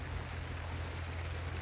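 Steady rain falls on a vegetable garden plot with squash and lettuce beds, a soft, even patter holding constant throughout with a low rumbling undertone and no voices.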